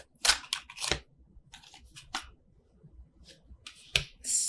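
Tarot cards are overhand shuffled in short, crisp bursts, several quick shuffling flurries separated by brief pauses, close and fairly quiet.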